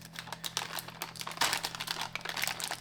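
A plastic bag of baking ingredient crinkles and rustles up close in a kitchen, with a busy run of crackling handling sounds over a steady low hum.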